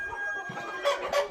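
Chickens on a small home poultry farm of about 400 laying hens and roosters, clucking close by in a steady murmur, with two louder squawking bursts near the end.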